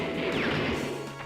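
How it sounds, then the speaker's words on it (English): Loud, dense crash of an explosion in TimeSplitters: Future Perfect, a sustained roaring burst filling the whole moment with no voices over it. "3 of them survived that explosion"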